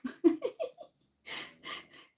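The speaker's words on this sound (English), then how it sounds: "They're Frenchies. They're pretty loud with their snores." French bulldog mother snoring nearby: a series of short voiced snorts and wheezy breaths, followed by a pause and two longer raspy snores, moderately loud with no talking.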